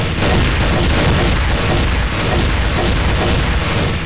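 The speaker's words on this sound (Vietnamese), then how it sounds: "Trò này là chúng ta sẽ thi bắn súng" Dense, nonstop gunfire from a shooting contest in the CrossFire video game, a loud continuous barrage of rapid shots and booms with no pauses.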